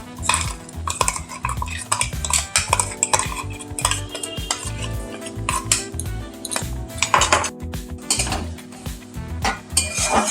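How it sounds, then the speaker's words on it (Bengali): Ginger, garlic and chili paste fries with already-fried onion and tomato in a pan for mutton keema: continuous close spatula scraping and metal clinks over a faint sizzle, with no talk. "আদা রসুন আর লঙ্কার পেস্টটা দেওয়ার পরে একটু ভেজে নিচ্ছি।"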